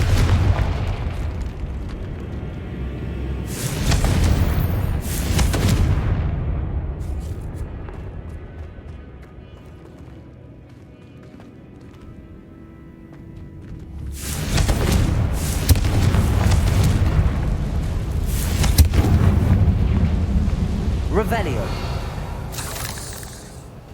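Confringo fire spell explosions in Hogwarts Legacy in a decaying catacomb, two long, loud rumbling booms with crackling bursts, separated by a quieter stretch of low ambience.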